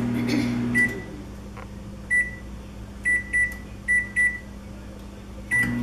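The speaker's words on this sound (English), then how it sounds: "So you are going to put your lid on it, stick it in the microwave." A microwave oven hums steadily while several short electronic beeps sound at irregular intervals, like buttons being pressed.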